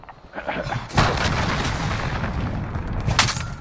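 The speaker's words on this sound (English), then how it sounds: "Enemy cruise missile." A cruise missile strike in Call of Duty Warzone lands as a loud, sustained blast, starting with a sharp crack near one second and rolling into a long roaring rumble, with a second burst near the end.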